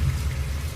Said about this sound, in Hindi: फिर से बारिश शुरू हो गई।